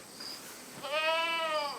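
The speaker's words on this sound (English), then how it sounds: "And goats are just throwing a fit." A goat lets out one drawn-out, wavering bleat at close range, rising and then fading over about a second, with quieter bleating in the background before it.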